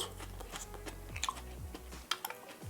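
Someone chews a mouthful of spicy kimchi and organic rice ramen noodles up close, with soft wet crunches and a few sharper bites, quiet and without talking.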